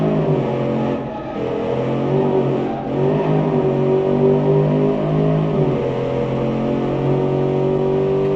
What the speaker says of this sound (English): it sounds like better than most automation V8s for some reason.